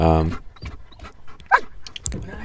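A very young dog in protection-sport training gives a short, high whimper at the start, followed by a person talking and scattered handling noises nearby.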